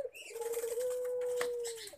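A brooding turtle dove gives a single long, smooth coo, clear and close, over faint background noise.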